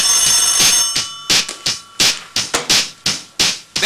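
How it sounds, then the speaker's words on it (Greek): An old-style telephone rings in short repeated bursts of bright metallic bell tones, close and loud, with small gaps between rings. "Τηλέφωνο πάρτο, γιατί εγώ θα το βρίσω."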